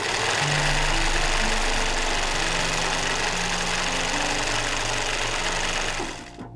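A sewing machine stitches steadily through layers of tulle for a tulle skirt, a continuous close, loud mechanical whir with no talking, slowing and stopping right at the end.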